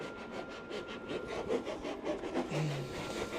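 A vinyl cutter slices out a decal at speed, making a faint, quick scratchy rasping with rhythmic strokes close by.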